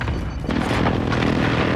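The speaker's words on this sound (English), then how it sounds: "Friendly precision airstrike inbound." A precision airstrike explosion in Call of Duty: Modern Warfare hits as a loud, heavy boom and then rolls into a sustained rumbling blast.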